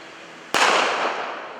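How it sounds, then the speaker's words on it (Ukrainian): A smoke grenade goes off: a single sudden bang bursts out after a quiet hiss, followed by a rushing, fizzing roar that slowly fades. "підтверджуючи серйозність своїх намірів вибухом чергової димової шашки"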